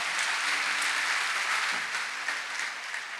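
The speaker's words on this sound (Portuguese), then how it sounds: "Pode dar uma salva de palmas bem forte." Congregation in a church applauding loudly, a dense, steady wash of many hands clapping with no talk over it.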